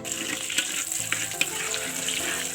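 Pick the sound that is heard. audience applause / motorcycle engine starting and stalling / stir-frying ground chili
stir-frying ground chili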